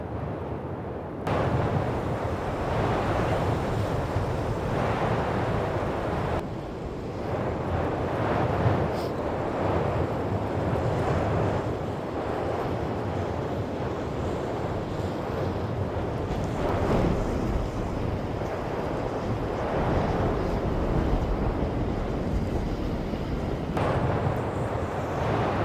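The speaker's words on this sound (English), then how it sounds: "It was extremely windy that day, and the wind was cold" Strong cold wind in the Swedish wilderness roars and buffets continuously in gusts, a loud rumbling rush with no voices.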